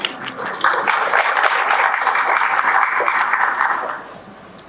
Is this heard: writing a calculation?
no